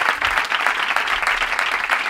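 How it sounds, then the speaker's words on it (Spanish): A studio audience applauds on a Spanish comedy show, steady dense clapping filling the whole stretch at close range with no talk over it. "Un fuerte aplauso para David Broncano"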